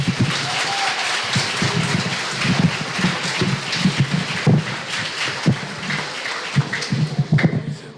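An audience claps after a talk, a steady patter of many hands that is fairly close and sustained, rising slightly near the end with a few murmurs in the room.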